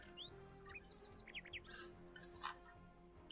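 Game birds chirp and tweet in Bloobs Adventure Idle, a scatter of short bright calls over a low steady background hum, fairly quiet, with no talking.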